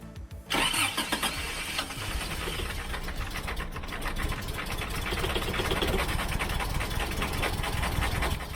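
A rebuilt Toyota 22RE engine cranks briefly, then catches and runs loud and rough for several seconds with an uneven, sputtering idle and no voices.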